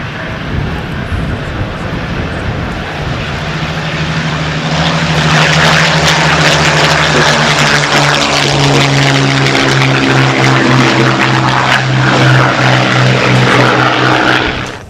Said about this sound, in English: when the engine starts